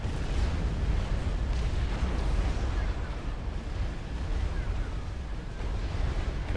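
Heavy cannon fire in a Supreme Commander: Forged Alliance real-time strategy battle booms continuously as dense, rumbling blasts and explosions with strong low-end weight, a loud unbroken barrage.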